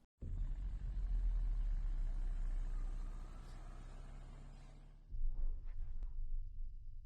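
A truck engine from a PUBG game trailer rumbles low and steady for about five seconds, then its tone shifts and drops as faint higher mechanical sounds come in.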